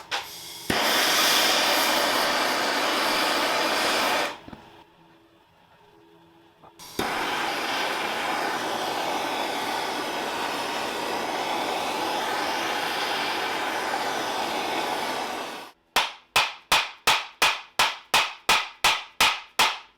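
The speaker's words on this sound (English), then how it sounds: "we are going to be blasting this thing with heat to hopefully loosen things up" A torch roars steadily up close while heating a stuck motorcycle swingarm bolt. The flame cuts off briefly and comes back, then a fast run of sharp, regular clicks follows, like an igniter or ratchet.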